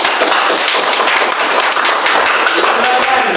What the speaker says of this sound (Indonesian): kita beri tepuk tangan untuk kelompok Yani